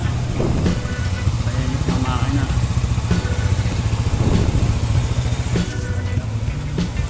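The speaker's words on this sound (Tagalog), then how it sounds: "i-start na natin kung maganda ba yung tunog sa makina" A small scooter engine runs close by at a steady, loud idle, its rattling putter continuing without pause throughout.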